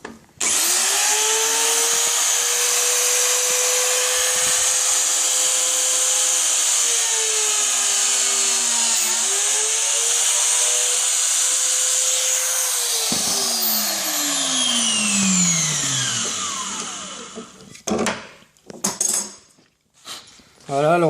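A dowel joiner drills two holes in a wooden piece, its motor whining steadily for about thirteen seconds with a brief pitch dip midway, then spinning down, followed by a few close clattering handling knocks.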